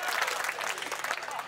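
An audience at a Hindi comedy poetry gathering claps in honour of mothers, dense continuous applause from a crowd, close and fairly loud, with a voice speaking over it.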